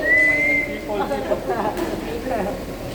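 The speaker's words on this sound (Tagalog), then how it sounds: "Sipol. Sipol ulit." A single sustained whistle note at the start, followed by overlapping talking voices and faint rustling at a badminton session.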